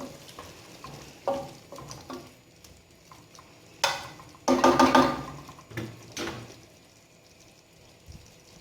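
Chicken and onion frying in a pan: a low, soft sizzle broken by bursts of stirring and scraping, one loud rush in the middle, with no speech.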